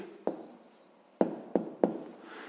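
A pen writes a maths answer by hand on paper: a short scratchy stroke, then three sharp taps or strokes against the desk, close and quiet, with no talking.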